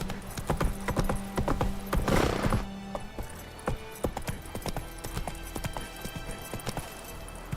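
Roach the horse gallops in The Witcher 3, rapid clip-clop hoofbeats with an occasional neigh over a busy game soundscape of music and effects, moderately loud throughout.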